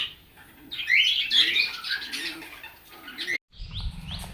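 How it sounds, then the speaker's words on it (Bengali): Several kinds of birds chirp and call at a quiet, peaceful monastery in Madhupur, with bright overlapping tweets over a soft ambient background, briefly cut off before resuming faintly. "অনেক রকম পাখি আছে।"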